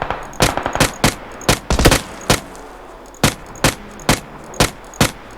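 Rifle fire in the battle game PUBG, a long series of sharp single shots and short quick bursts, loud and close, spaced irregularly with brief gaps of near quiet between them.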